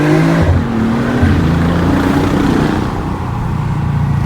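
A BMW car engine holds a loud, steady drone that rises and shifts pitch as if revving and changing gears, heard continuously without speech.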